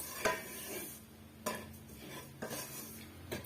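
Semolina and grated coconut stuffing roasting in a dry pan, heard as quiet scraping and shuffling with a few distinct clinks of a spoon against the metal pan at irregular intervals, close and faint.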